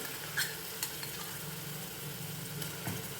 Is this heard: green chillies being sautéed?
yes